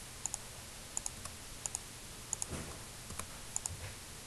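Light clicks of a computer keyboard come in small clustered pairs and bursts of typing, fairly quiet and close, against a faint background hum.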